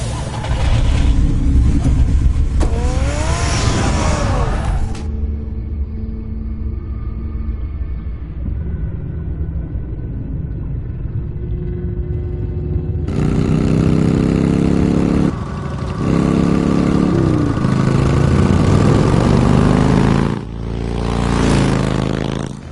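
Car engine in a Batman video game, a steady low rumble with scraping textures, louder bursts of revving and movement at the start and again after the midpoint, with a quieter idling stretch between.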